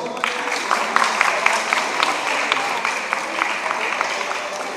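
An audience at a 2014 children's Mini Miss pageant in Ruse keeps up a steady, moderately loud patter of clapping for a contestant, with individual claps standing out over a continuous crowd murmur.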